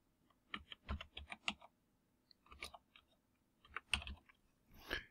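Bursts of typing on a computer keyboard, rapid clicking keystrokes in short clustered runs separated by brief pauses, close and fairly quiet with no talking.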